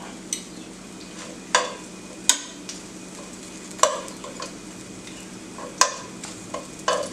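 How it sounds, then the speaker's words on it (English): Bread crostini pan-frying over medium heat, with a low steady sizzle under sharp scrapes and knocks as the slices are stirred and moved around the pan, about eight of them spaced irregularly. "I like doing this kind of a pan fry instead"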